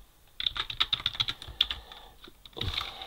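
Rapid typing on a computer keyboard, with quick, close, crisp key clicks in irregular bursts and a short pause before a final flurry.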